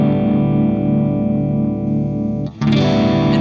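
Overloud TH3 metal amp tone with the presence knob cranked, a loud, sustained distorted guitar chord ringing with thick harmonics, briefly dipping near the end before a bright new attack.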